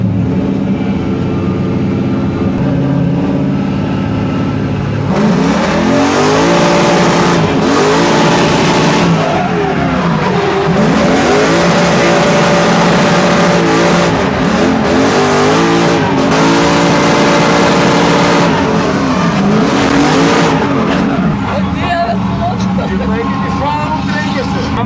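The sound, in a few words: BMW drift car with Mercedes AMG engine driving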